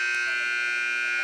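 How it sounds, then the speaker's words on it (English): Gymnasium buzzer at a girls' high school basketball game between Woodbury and Sterling, sounding at the close of halftime as one steady electronic tone that holds through the whole moment at a moderate, somewhat distant level. "As the buzzer sounds, that means halftime is officially over"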